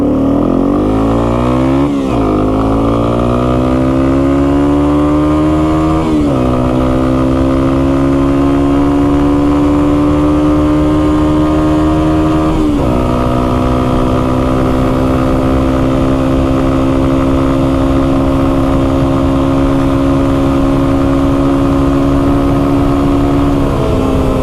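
A Yamaha TW200 dual sport motorcycle with a freshly rebuilt carburetor accelerates hard through several gears, its loud, close engine note climbing in pitch and dipping at each shift, with no talk.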